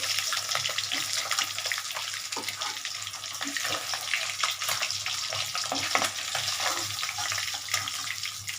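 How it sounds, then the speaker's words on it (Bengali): Pieces of fish fry in hot oil in a pan with a constant, hissing sizzle that sounds almost like running water, faint and steady throughout with occasional soft bumps as pieces are lifted. "আমার মাছগুলো ভাজা হয়ে গেছে আমি এটা তুলে নেবো দেখো তুলে নিচ্ছি"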